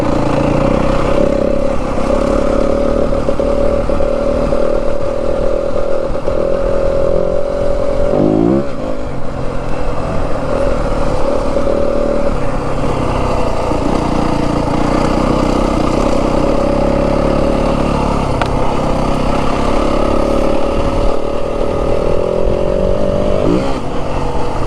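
A 2025 Yamaha WR250F dirt bike ridden through the Santa Rita Mountains of southern Arizona, its engine droning loud and steady close by, with the pitch shifting as the throttle changes and a brief dip mid-ride.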